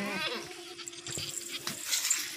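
A goat at a livestock sale bleats faintly several times amid low background noise and farmyard sounds, with no clear talking.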